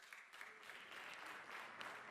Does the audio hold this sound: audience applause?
yes